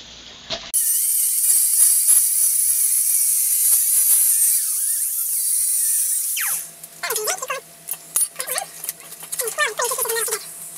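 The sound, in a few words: angle grinder cutoff wheel cutting steel sheet metal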